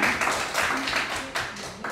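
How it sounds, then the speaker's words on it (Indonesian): A small audience claps at a school teachers' gathering, a short burst of uneven, fairly close hand claps. "Oke, tepuk tangannya."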